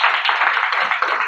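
Quick, dense hand clapping rings out at a prayer gathering in a rented home, a short, loud, continuous patter with no talk over it.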